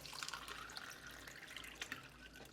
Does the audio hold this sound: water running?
yes